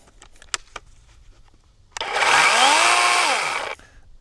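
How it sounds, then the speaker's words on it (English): After a few faint clicks, a battery-operated chainsaw whirs up suddenly and runs at a steady, loud, high-pitched electric whine for about two seconds, then stops abruptly. "Main reason for getting a battery operated saw:"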